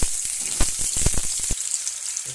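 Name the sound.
potatoes frying in oil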